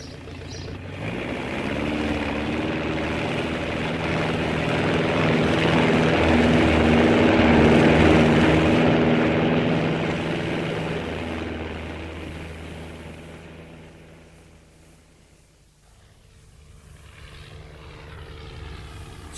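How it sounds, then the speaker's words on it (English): A propeller aircraft engine drones steadily during takeoff, a loud sustained hum that swells to a peak, fades away into the distance, then starts to rise again. "Takeoff was quite smooth."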